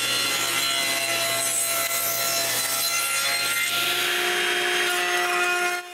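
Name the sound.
sawing wood into small square pieces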